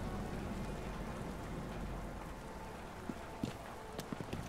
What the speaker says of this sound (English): we probably shouldn't be sending in this acid rain